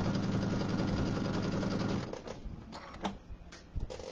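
A sewing machine with its embroidery arm still attached stitches a quarter-inch seam, humming steadily for about two seconds before stopping, followed by light handling clicks and rustles.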